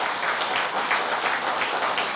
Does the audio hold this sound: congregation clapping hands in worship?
yes